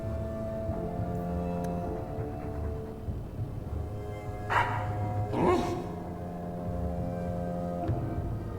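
A Mabari war dog in the video game Dragon Age 2 gives two short barks midway through, heard over a soft musical background with tonal hum.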